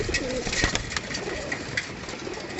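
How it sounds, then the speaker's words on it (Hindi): Close, soft cooing of pigeons kept as a hobby by a fancier in a home loft, with low, throaty calls repeating under faint background noise. "ये देखें जी कबूतर"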